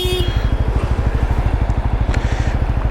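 A Benelli Imperiale 400 motorcycle engine pulses in a loud, close, rapid thump during city riding, a steady low rhythmic throb with faint background traffic noise.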